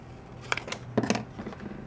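Scissors snip through card paper while a holiday card is being made, with a handful of quick, close crisp cuts spread over a couple of seconds.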